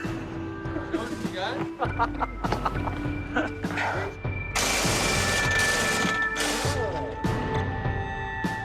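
A pneumatic impact gun removing rusty bolts from a tank mantlet, firing repeated loud bursts of rattling hammering close by amid clanks and shop noise, with people talking over it.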